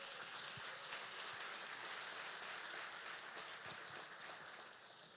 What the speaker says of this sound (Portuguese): Você pode aplaudir o Senhor por essa esperança?